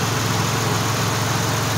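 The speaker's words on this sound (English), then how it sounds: "with it just sitting here idling with the fan running" A 2006 Pontiac Grand Prix sits idling with its electric cooling fan running, also feeding a transmission cooler, giving a steady, even low engine hum under a constant whooshing fan noise.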